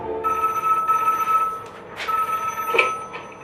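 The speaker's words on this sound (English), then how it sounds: "I was woken by a fierce ringing of my bedside telephone." A bedside telephone bell rings insistently in two long bursts with a brief pause between, loud and near, with faint room noise in the background and no voices.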